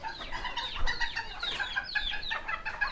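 A Serama hen, a champion show bird that is currently brooding, gives a run of soft, repeated clucks and short chirping calls, close and clear over a quiet background.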